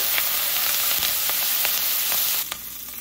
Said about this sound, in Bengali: তারপর দিয়ে দিচ্ছি কাঁচা লঙ্কা আর কারি পাতা, এগুলোকে ভালো করে ভেজে নেব